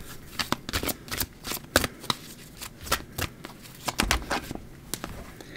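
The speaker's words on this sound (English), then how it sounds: "Oh, why are these cards moving here?" Tarot cards being shuffled by hand, a quick run of crisp riffling flutters and soft slaps in repeated bursts, close and fairly loud with no talking.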